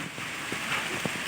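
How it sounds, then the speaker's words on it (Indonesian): Steady rain falling over a rice field site being cleared for new paddies, a soft continuous hiss with a few faint scattered drop taps. "Ini hujan-hujan"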